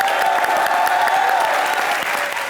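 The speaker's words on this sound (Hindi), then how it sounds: "सोनाक्षी सिन्हा के लिए जोरदार तालियां हो जाएं।" Studio audience at a Hindi comedy show applauding steadily, a dense, even wash of clapping that holds at the same loud level for the whole stretch with no voices over it.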